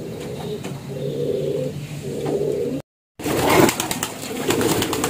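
High-flying racing pigeons coo in low, repeated murmuring phrases at a pigeon loft, close by, over steady outdoor background noise with a brief gap of silence midway.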